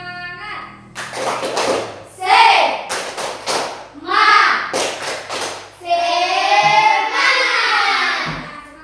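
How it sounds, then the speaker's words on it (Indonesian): A class of schoolchildren does rhythmic spirit clapping in short bursts, alternating with loud chanted voices, in an indoor classroom. "Kita tepuk semangat dulu biar nggak itu."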